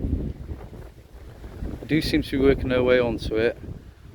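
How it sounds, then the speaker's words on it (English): Low rumbling wind buffets the microphone outdoors throughout, while a person talks over it in the second half, during bee swarm catching. "it's getting a bit windy"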